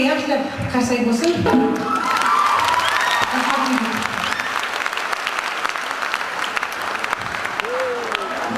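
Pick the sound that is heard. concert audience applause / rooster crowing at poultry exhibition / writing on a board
concert audience applause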